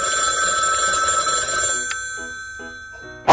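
A telephone rings with a bright electronic ringtone in a Minecraft family roleplay, a steady ring that stops partway through, leaving a few soft knocks and shuffles before a sharp burst at the end.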